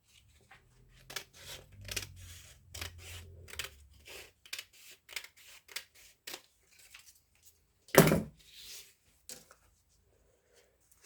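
During rail station extension work, a template piece is cut with a series of short, dry snipping or scraping strokes in an irregular rhythm, followed by a single louder, longer rasp near the end, with quiet pauses between.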